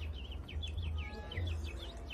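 A person whistles a series of rapid, warbling bird-like chirps, imitating birdsong, with a low hum underneath, during play of the game Stray.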